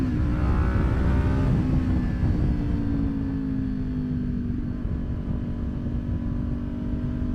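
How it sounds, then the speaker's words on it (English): The exhaust of a Kawasaki Ninja 400 motorcycle drones loud and close, its engine note gliding smoothly down in pitch as it downshifts under a constant rush of wind, with no voices. "Probably one of my favorite things about this bike is that freaking exhaust I've got on there."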